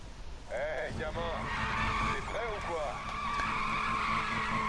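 Tires squeal as a car drifts in a drift contest in Need for Speed 2015, a sustained skid with engine tone running for several seconds. Someone talks in French over it.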